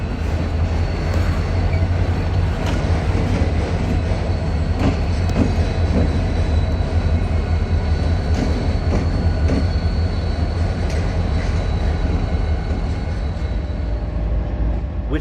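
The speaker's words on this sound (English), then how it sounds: "it takes an enormous fleet of capable and reliable locomotives to move freight between various trains" Freight locomotives work a rail yard, producing a loud continuous rumble of engines and rolling cars with faint wheel clatter and squeal, steady and close throughout.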